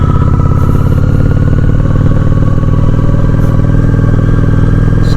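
A Honda Shadow 750 ACE motorcycle runs with a loud, steady, throbbing engine drone close to the listener as it slows gently under braking, with no speech over it.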